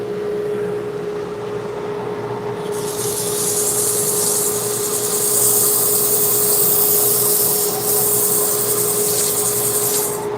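Sandpaper is pressed against a wooden hollow form spinning on a lathe, adding a loud, steady broadband hiss over the constant motor hum that holds for most of the stretch, with no voices.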